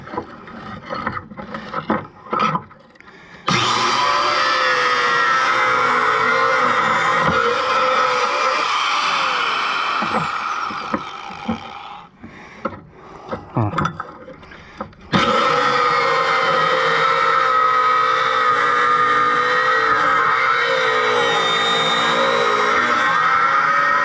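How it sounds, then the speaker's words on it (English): A cutoff wheel grinds through the bolts holding the pillow blocks on an Oliver 471 manure spreader, loud sustained shrieking cuts in two long passes with a brief lull between, close up and without talk. "I'll probably end up just cut off wheeling the bolts that hold these pillow blocks in"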